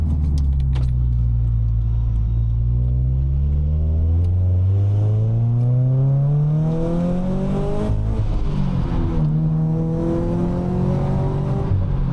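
Boosted Subaru BRZ engine revs sharply during a heel-toe downshift, loud and close with rising and falling harmonic sweeps, a quick blip near the middle, and sustained rumbling acceleration throughout.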